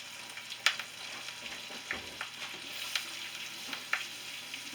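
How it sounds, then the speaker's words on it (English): Steak frying in a pan with butter and fat, a quiet steady sizzle broken by a few sharp pops and spatters, with no one talking. "So right now we're going to move this steak into the pan"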